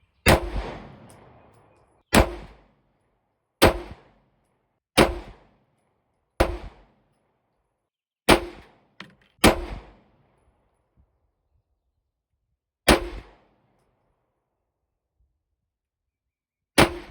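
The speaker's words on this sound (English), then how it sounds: "So we're gonna be drawing and shooting at this target." Sharp handgun shots ring out one at a time, loud and close, as a shooter draws and fires at a small target. Nine or so cracks come in irregular spacing, each with a short decaying tail, with silence between them and no talking.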